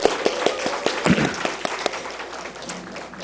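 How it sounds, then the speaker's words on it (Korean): A church congregation claps together during a worship service, sharp, fairly distinct claps in a loose rhythm rising to a fuller burst of applause, with a faint voice or two underneath. "하나님께 영광의 박수를 한 번 더 드리겠습니다."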